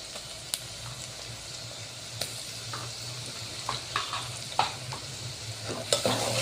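Ginger garlic paste frying in oil with browned onion for shev bhaji, a soft continuous sizzle with a low steady hum and scattered clicks and utensil taps growing busier toward the end; no talk.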